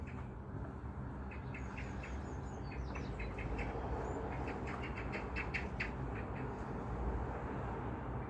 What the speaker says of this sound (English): Garden's pretty lively today with birds, probably gonna be able to hear that.